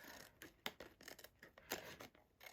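Paper being trimmed for a handmade card makes faint, close snipping and rustling sounds, a quick series of small cuts with soft paper handling between them.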